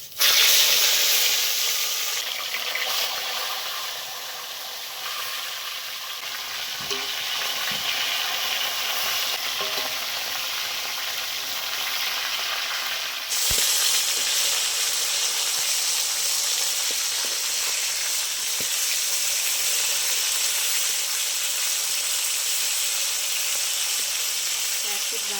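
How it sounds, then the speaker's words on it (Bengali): Fish heads rubbed with salt and turmeric fry in hot mustard oil, a loud steady sizzle and hiss that runs continuously and brightens sharply partway through as more pieces hit the pan. "তেলটা ভালো গরম হয়ে গেছে, এবার নুন হলুদ মেখে রাখা মাছের মাথাগুলো দিয়ে দেবো।"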